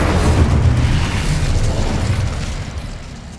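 Incendio fire spell in the Hogwarts Legacy video game erupting into a loud, deep explosive burst with heavy low rumble that slowly fades over a few seconds.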